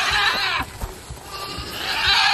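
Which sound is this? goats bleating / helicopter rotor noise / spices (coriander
goats bleating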